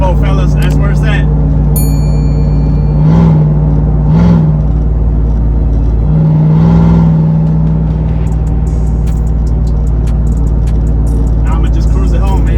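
Cammed Chevrolet Silverado single cab pickup engine pulls hard, a loud, steady low rumble and whir from inside the cab with a few brief swells in revs, continuous throughout.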